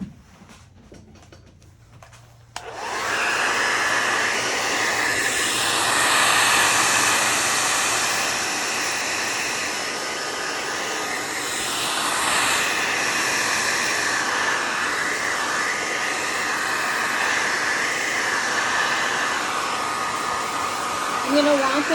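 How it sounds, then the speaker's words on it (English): Hair dryer blowing steadily on freshly applied milk paint, switched on after a short quiet moment and then running as a loud continuous whoosh close by for the rest of the time. "I am going to use the hair dryer again just to help this dry quicker"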